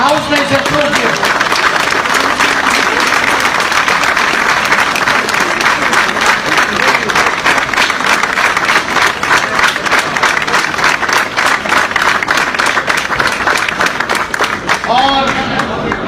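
Loud, sustained applause from a large crowd at a gathering of lawyers, dense clapping running continuously for about fifteen seconds, with voices and a speaker briefly audible near the end.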